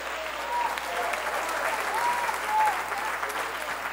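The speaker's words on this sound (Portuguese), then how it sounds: "Aplaude e glorifique a Deus." A church congregation applauding together, a dense steady clapping from a roomful of people that swells slightly, with a voice rising over it.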